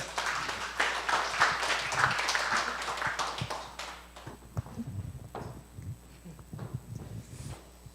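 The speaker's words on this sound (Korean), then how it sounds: "사모님, 예, 박수로 환영하겠습니다" An audience at a church ministry gathering applauds to welcome a speaker, dense clapping for about four seconds that thins into scattered individual claps and footsteps-like taps.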